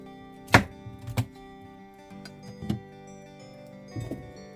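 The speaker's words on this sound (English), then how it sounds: "I'm just gonna cut this up in straight pieces." A knife chops vegetables into straight pieces on a cutting board for a detox juice, giving four distinct knocks spaced about a second apart, close and fairly loud against a faint humming background.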